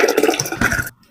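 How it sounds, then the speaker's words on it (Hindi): Water pours steadily into a pot of soaked moong and mash lentils for dahi bhalla batter, a brief close gurgling fill that stops abruptly. "इतना ही पानी इसमें जाएगा।"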